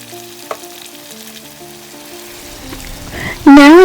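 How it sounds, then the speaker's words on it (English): Chopped tomatoes dropped into a hot pan, breaking into a loud sudden sizzle near the end, after a stretch of quieter background with a faint tonal hum and a single knock. "Now you can add all the tomatoes that you chopped earlier."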